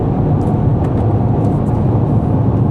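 Steady, loud road and engine roar from inside a Dodge Charger R/T cruising at 70 mph, with constant broadband tire rumble and faint gravel ticks throughout and no speech.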